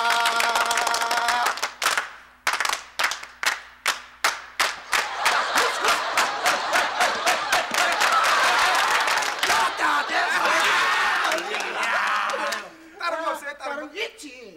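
An audience performs the rhythmic Busan seagull clap, sharp unison claps in a steady beat that speed into a dense rolling clatter, mixed with loud crowd shouting and chanting, with a voice calling out near the end.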